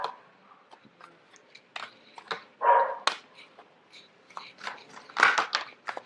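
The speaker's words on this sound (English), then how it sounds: "forgive the dog barking in the background" A dog barks and whines in the background of an indoor room, with scattered short yips and two louder bursts of barking, moderately distant and intermittent.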